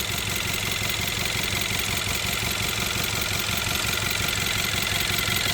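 A 2017 Hyundai Tucson 1.6 turbo AWD engine idling with the cylinder 4 ignition coil disconnected during misfire diagnosis, giving a steady, even mechanical drone with fine rhythmic ticking, close and constant throughout.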